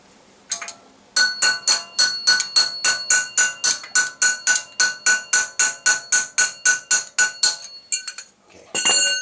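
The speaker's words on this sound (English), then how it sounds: "we're gonna tap on that axle to go back in a little bit" Hammer blows ring out against the front axle of a 1999-2001 Volvo S60 during a wheel bearing replacement, about two dozen sharp metallic clinks in a fast, steady rhythm, close and loud, then a brief pause and a few more strikes.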